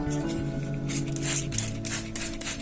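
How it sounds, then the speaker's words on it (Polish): A handheld spray bottle mists water onto cress sprouts in several short hissing bursts, spaced irregularly over a steady background of sustained tones. "Co jakiś czas zaglądamy do naszej hodowli, patrzymy, czy nasze kiełki nie wyschły czasem i zraszamy je regularnie wodą."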